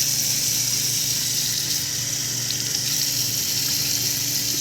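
Tap water pouring steadily through a GM truck thermostat held under a sink faucet, a continuous broadband rush at close range with no talk.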